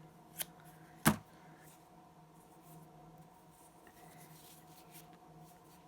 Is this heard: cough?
no